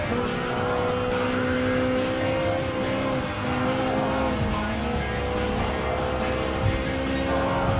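Gran Turismo Sport race with a Ferrari 458 Italia Gr.4 and other Gr.4 cars such as a Volkswagen Scirocco and Renault Megane, a loud continuous engine roar with shifting pitch, tire squeal and close car sounds throughout.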